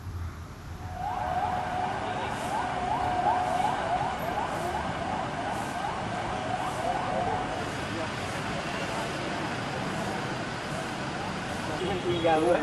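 A convoy of ambulances carrying COVID-19 patients in Cikarang, Indonesia, passes with sirens wailing in repeated rising and falling sweeps, moderately distant over traffic rumble, with faint talk underneath.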